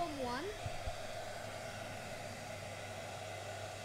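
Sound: hair dryer blowing

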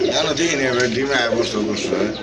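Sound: pigeon cooing

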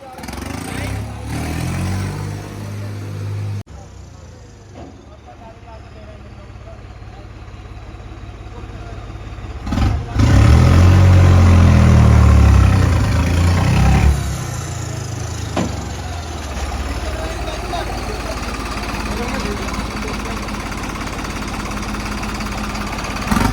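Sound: New Holland 3630 tractor engine running

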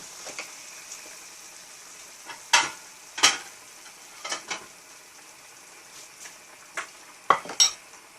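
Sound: stir-frying Chinese kale with pork in a pan

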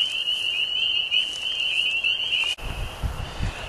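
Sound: spring peeper frogs calling in grass

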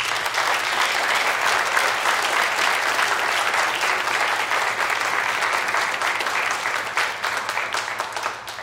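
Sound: audience applause

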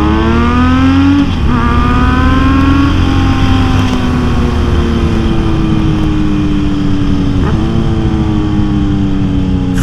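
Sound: Kawasaki Z900RS inline four motorcycle exhaust revving

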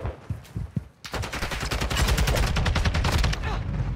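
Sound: gunfire from an assault rifle in Call of Duty: Modern Warfare 2 video game

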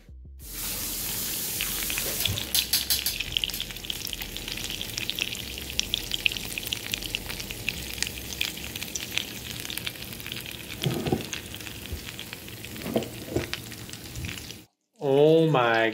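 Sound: bread sizzling in waffle iron

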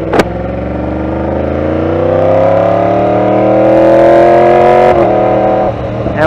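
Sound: Yamaha R1S motorcycle engine while riding

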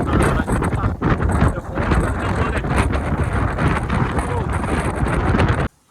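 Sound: strong wind

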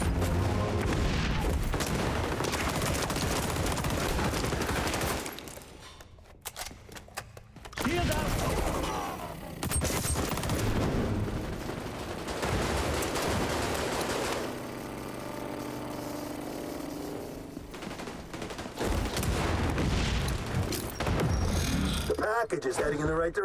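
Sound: pistol gunfire in video game XDefiant

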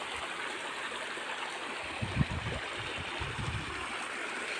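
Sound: water stream flowing

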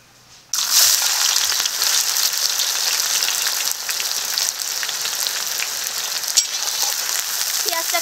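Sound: chopped onions frying in a pan

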